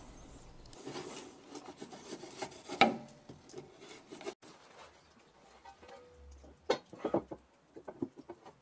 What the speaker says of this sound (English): You can simply search for some soft spots and then poke with a screwdriver